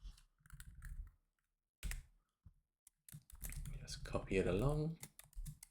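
Short bursts of computer keyboard typing come through as someone builds a spreadsheet financial model, with soft, quick key clicks mixed in among stretches of someone talking.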